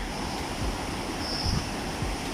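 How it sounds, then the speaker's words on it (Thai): A waterfall near the Thai-Lao border gives a steady, broad rushing wash of water that fills the whole stretch, with some low wind-like rumbles on the microphone and no talking. "เป็นน้ำตกที่ไร้แรง"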